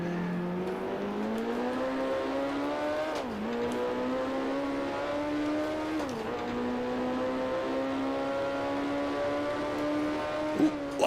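A Matra F2 race car engine at Zolder in Grand Prix Legends screams steadily at high revs, pitch climbing through each gear with sharp dips at upshifts, loud and continuous with no talking.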